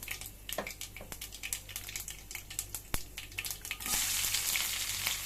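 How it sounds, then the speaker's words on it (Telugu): Mustard seeds, fenugreek and chana dal hitting hot oil, sharp scattered pops and crackles that swell into a denser hiss near the end, fairly quiet overall. "నూనె కాగింది ఆవాలు మెంతులు శనగబ్బాలు"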